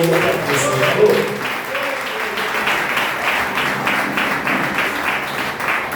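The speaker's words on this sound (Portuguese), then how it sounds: "Então, as palmas ao Senhor." Church congregation applauding at the close of an evangelical service, sustained dense clapping that carries on evenly throughout, with voices mixed in over it.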